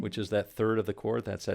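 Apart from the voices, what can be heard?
None of the usual background noises is heard.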